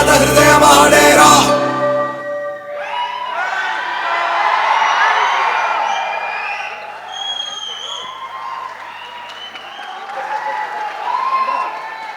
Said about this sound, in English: Does this reaction ever get old, watching your film with a packed crowd?